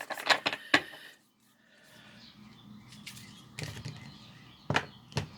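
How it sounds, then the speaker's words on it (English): A northern cardinal gives sharp, scattered chirps in the background, faint and spaced apart in bursts over a quiet room. "I hear the cardinal in the background."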